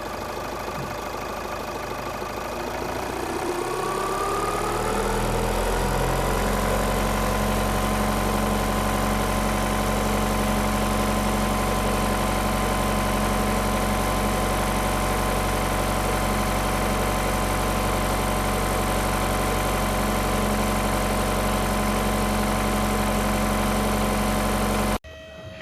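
A VW Audi 2.0 TDI diesel with an inlet manifold flap fault starts up and settles into a steady, loud, close idle, holding an even mechanical drone with a low throbbing hum until it stops abruptly near the end.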